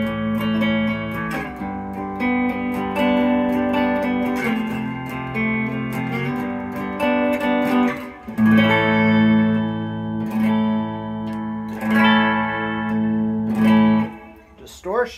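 Epiphone Les Paul electric guitar on the bridge pickup through distortion, playing loud sustained chords and riffs with ringing overtones and short breaks between phrases.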